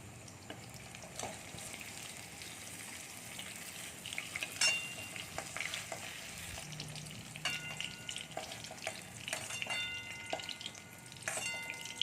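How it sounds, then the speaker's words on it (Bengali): Paneer pieces fry in a pan until reddish-brown, giving a busy close crackle with spattering pops and occasional clinks and scrapes of stirring, with no voices. "আমি পনিরগুলোকে লাল লাল করে ভেজে নিই"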